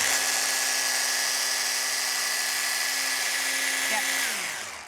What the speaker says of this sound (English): I love how you're just doing it in a little sort of whizzer.